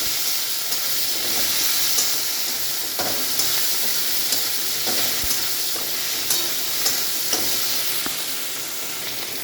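Chopped tomatoes sizzle steadily in a hot frying pan while being stirred, with a continuous bright frying hiss broken by repeated scraping and tapping strokes throughout, close and fairly loud with no talk.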